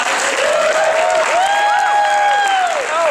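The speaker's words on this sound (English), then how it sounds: "Give yourselves a big round of applause" A festival crowd at a surprise party bursts into loud, continuous clapping, mixed with whoops and rising whistle-like cheers that arc over the top of the applause throughout.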